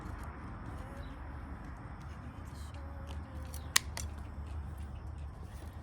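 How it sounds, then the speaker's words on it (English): Scissors cut a piece off in a quiet room, a few soft snips with one sharper click near the end, over a steady low background rumble and no talking. "so I'm gonna cut this piece off."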